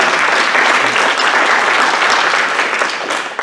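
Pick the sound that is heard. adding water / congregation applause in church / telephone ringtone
congregation applause in church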